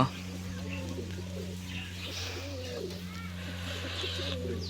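A pair of white pigeons coos in a continuous low murmur close by, over a steady low mechanical hum, with faint chirps above.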